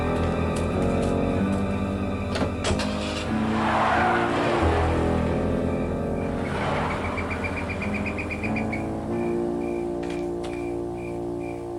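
A car engine revs and its tires squeal in a skid in the Win98 video game Full Throttle. The sounds are loud and continuous over a steady tonal game soundtrack.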